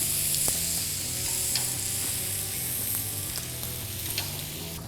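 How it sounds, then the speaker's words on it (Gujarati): A roti being fried in oil in a pan, a steady close sizzle that hisses evenly throughout with faint crackles and no voices. "હવે આપણે ઓઇલ નાખશું ને આ જે રોટલી છે એને પલટી કરી દઈશું."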